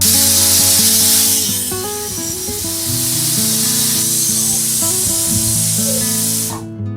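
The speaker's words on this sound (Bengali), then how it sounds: "ঠিক আছে এটা তাহলে সিটি পড়ে যাক" Pressure cooker boiling jackfruit lets out a loud, close whistle: a forceful steam hiss carrying wavering tonal pitches for several seconds, then cutting off abruptly, with no talking.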